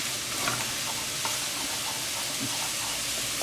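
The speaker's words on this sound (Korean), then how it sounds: "기름에다가 마늘 향을 내고 있어요" Garlic fries in oil in a pan for a Korean stir-fried potato dish, giving a steady close sizzle with faint crackles and light spatter throughout, and no voices.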